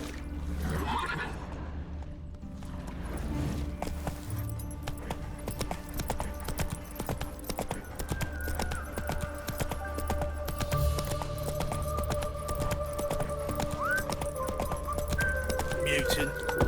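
A horse gallops in The Witcher 3, its hooves clip-clopping in a quick steady rhythm under low game ambience, with a whinny near the start. The hoofbeats keep a steady, moderate loudness throughout.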